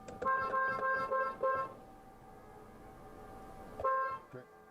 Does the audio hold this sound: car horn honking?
yes